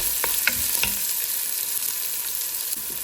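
Onions frying in hot oil for rava upma give a steady, close sizzle, broken by a few stirring scrapes near the start. No voices are heard.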